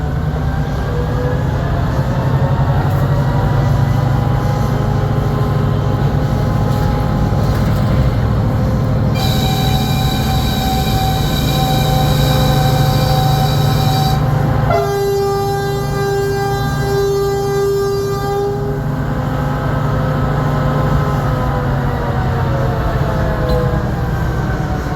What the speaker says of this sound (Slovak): motor, ktorý ste práve mohli počuť vo vysokých otáčkach, je 12-valcový preplňovaný dvojtaktný motor